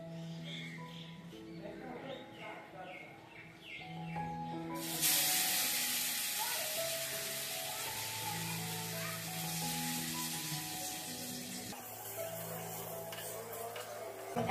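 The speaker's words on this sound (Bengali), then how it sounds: "এবার এগুলোকে আমি তেলে ভেজে নেব" Dhoka lentil cakes fry in oil in a wok: quiet background tones give way to a sudden loud burst of hissing sizzle that continues steadily, then softens slightly near the end.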